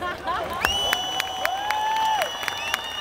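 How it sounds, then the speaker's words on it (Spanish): Concert audience applause and cheering in Bogotá, clapping and crowd noise beneath sustained whistles and voices, with sharp percussive accents throughout. "Y un aplauso para la nueva generación."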